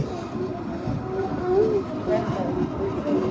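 A small train running along a long jetty in Australia, rumbling steadily with faint squeals and a low drone, moderately close, with a voice talking over it.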